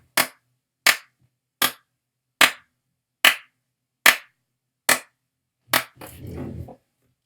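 Eight sharp, evenly spaced hand claps ring out alone and close, about one per second, followed by a brief rustling scrape at the end.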